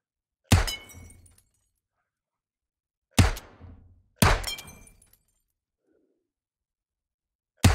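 Single gunshots in the VR game H3VR, three sharp loud reports spaced a second or more apart with short decaying tails, and the start of a fourth at the very end.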